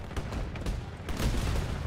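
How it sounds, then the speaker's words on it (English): Underbarrel shotgun blasts in the video game Battlefield 2042, several sharp booming shots in quick succession amid game noise, fairly close. "This underbarrel shotgun is actually not that bad."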